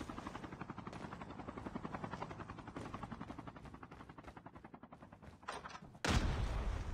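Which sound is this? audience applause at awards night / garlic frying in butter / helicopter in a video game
helicopter in a video game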